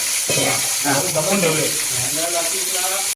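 Boneless chilli chicken sizzles steadily in hot oil in a village kitchen, a continuous loud frying hiss with faint stirring, with no break for about three seconds before it cuts off.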